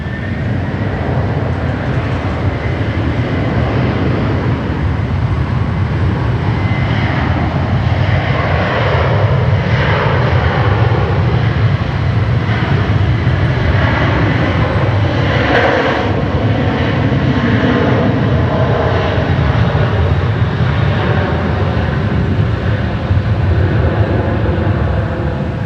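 Passenger jet taking off from Sydney Airport, its engines roaring loud and continuous for the whole stretch, a broad steady blast of jet noise with slowly shifting tones and no talking.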